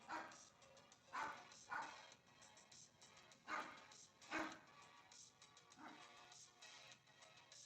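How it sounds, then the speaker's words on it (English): A dog barks repeatedly in short, irregular yips, faint and somewhat distant, in a quiet room with no talk. "Barking at somebody."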